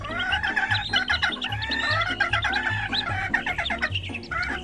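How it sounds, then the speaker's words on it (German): Hungry chicks peep and cheep steadily at an amusement park, a dense, continuous chorus of high chirps with a low rhythmic mechanical pulse running beneath. "Karl, Bianca, die Küken haben Hunger."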